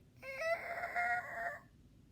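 A voice mimics screeching tires: a high, drawn-out squeal lasting over a second, sung alone with a strong steady pitch and a quick start.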